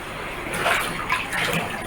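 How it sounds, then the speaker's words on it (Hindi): Flowing floodwater moves inside homes after a night of heavy rain in Uttarakhand, a continuous close rush of churning water that surges slightly midway, with no speech. "देखिए कैसे यहाँ पर जो है पानी बहता हुआ नजर आया"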